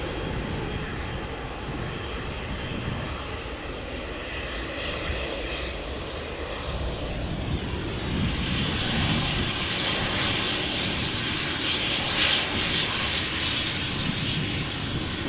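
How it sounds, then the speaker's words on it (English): A KLM Embraer 190 jet at Amsterdam Schiphol, a rising turbofan roar that grows louder and brighter halfway through as the aircraft approaches, sustained and close, with no speech. "This would be an Embraer 190 KLM flight 1425 going to Birmingham in a few moments."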